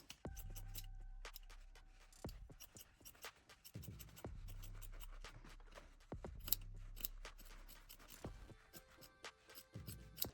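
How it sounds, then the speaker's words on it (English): Scissors trimming the fabric seam allowance on lace-back panties, giving a run of quiet, close snipping cuts in an uneven rhythm, each with a short metallic closing click, alone in a quiet room. "Now trim the seam allowance."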